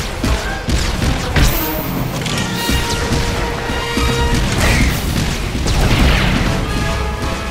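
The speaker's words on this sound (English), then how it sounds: "The Mercenary fires off a few Heatseeker missiles" Heatseeker missiles launched during a Star Wars video game raid battle, amid dense, loud continuous crashing, booms and thuds of combat with layered effects throughout.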